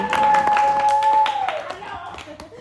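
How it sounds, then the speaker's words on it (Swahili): An audience at a birthday surprise party claps in a short burst of applause, the scattered hand claps mixed with a sustained tone and some background voices. "Makofi."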